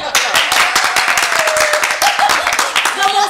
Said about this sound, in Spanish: Un aplauso para Santiago.